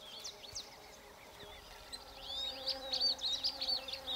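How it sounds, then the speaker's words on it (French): A bee in Zambia buzzes close by, its drone rising and growing louder toward the end, with faint birdsong chirping in the background. "Chaque fois qu'une abeille se rend d'une fleur à l'autre"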